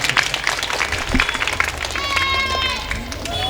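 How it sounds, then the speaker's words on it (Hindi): Scattered clapping from an audience at a madrasa prize-giving event, with voices and room noise mixed in throughout. "तालियों के साथ इनका स्वागत होना चाहिए।"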